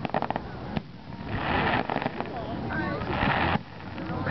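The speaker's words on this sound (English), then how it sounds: "Crackling mini firecrackers" Mini firecrackers at Canada Day fireworks crackling in rapid bursts of sharp pops, with the bursts separated by short gaps, while people talk and laugh nearby.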